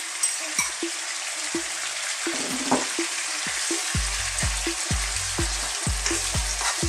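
Scallops and cabbage fry with lemon in a hot pan, giving a steady close sizzle broken by repeated knocks and scrapes of stirring, with a low rhythmic thumping in the latter half.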